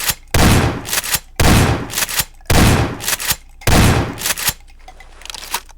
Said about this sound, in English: don't use the shotgun like this because you're gonna die instantly if you don't know how to use the shotgun